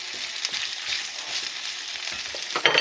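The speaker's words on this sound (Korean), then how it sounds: "나비 리본 모양의 빠르빨레면을 이 정도 넣어요" Farfalle pasta dropped into hot olive oil, sizzling with a bright, steady hiss and light crackle, close up, with stirring clatter surging near the end.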